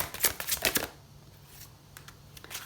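Tarot cards are shuffled for a reading, with a fast burst of crisp riffling flutters at the start, then a few sparse, softer card slaps and taps over a quiet room.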